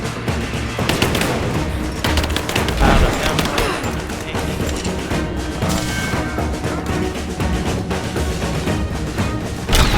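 Gunfire in the video game Rise of the Tomb Raider, dense, loud bursts of rapid automatic shots and crashes overlapping in a continuous firefight, with voices shouting amid the noise.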